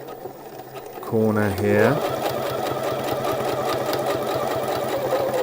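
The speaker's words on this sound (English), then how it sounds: "put my needle down and then do a back stitch" Sewing machine stitching a shirt collar seam, a steady close mechanical whirr with rapid needle chatter running through the clip, while a voice talks over it.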